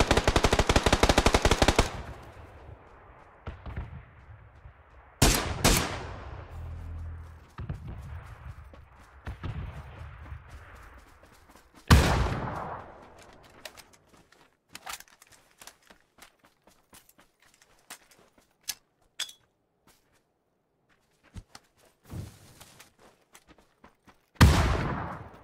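Automatic gunfire bursts in an online shooter game come in sharp loud volleys at the start and again near the middle and end, with scattered single shots and quieter game noise between them.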